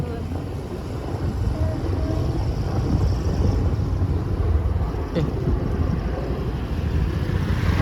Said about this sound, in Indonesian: Mau landing Belang Bintang tuh udah dekat sini ya